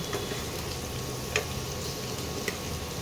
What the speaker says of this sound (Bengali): এবারে আলুগুলোকেও লাল লাল করে একটু ভেজে নিই